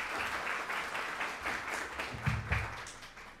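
An audience at a lecture hall event applauds to welcome a speaker, a moderately distant, steady patter of many hands clapping that continues for a few seconds with a couple of louder thumps near the end.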